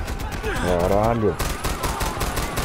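Enemy gunfire in Far Cry 4, a few rapid shots and a burst crackling through the mix, partly layered with a voice and in-game sounds.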